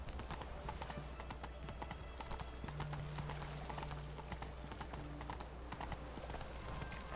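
Roach the horse clip-clops in The Witcher 3, quick hoofbeats in a steady stream, quiet and close, with a low sustained tone underneath.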